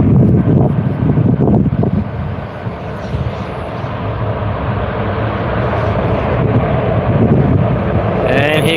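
Wind vortices trail a landing airliner, a broad turbulent roar and rushing whoosh that swells and churns under light wind noise on the microphone, with a faint voice in the background.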